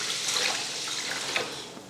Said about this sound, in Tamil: இப்போ தண்ணி ஊற்றி ஊற வச்சிடலாம்.